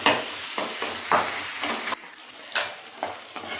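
Dried fish and yellow pumpkin fry in a pan as a spoon stirs them, sizzling steadily with a string of sharp scraping strokes, close and fairly loud, with no talking.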